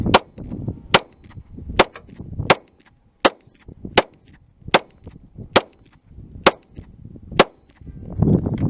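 A Glock 48 pistol fires a string of about ten shots from a plain 10-round magazine, each crack sharp and loud at a steady pace of roughly one per second, with no voices between them.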